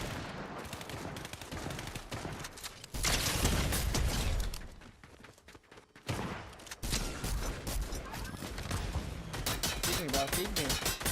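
Rapid bursts of shotgun fire from the Gatekeeper with a drum magazine in an online shooter game, loud and dense, broken by brief lulls and layered with mechanical clatter, while a player talks over it.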